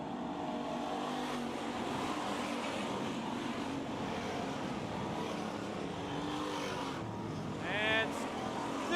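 Race cars at Bakersfield Speedway during the Budweiser Nationals produce a continuous engine roar across the whole stretch, with a brief high tire or engine whine near the end, under an announcer's commentary.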